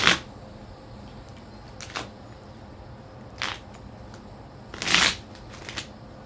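Tarot cards are shuffled close up in several brisk riffling bursts, with quiet pauses between them.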